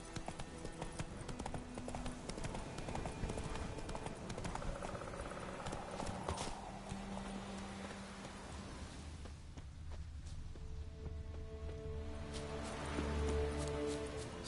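The horse Roach gallops in The Witcher 3 video game, its hooves beating a steady, rapid clip-clop. The sound is quiet and sits under a layer of ambient game music and background sound.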